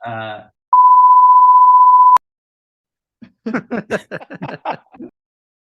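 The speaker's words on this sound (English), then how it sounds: "Be a series of beeps." A single steady censor beep of about a second and a half, followed after a pause by people talking.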